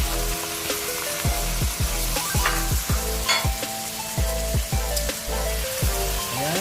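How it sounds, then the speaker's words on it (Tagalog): Chicken liver and gizzard frying in cooking oil with garlic and onion for adobo, a loud, dense sizzle with a run of rhythmic stirring strokes and ringing scrapes against the pan. "Ihahalo na natin dyan sa ating cooking oil and then yung ating garlic and onion."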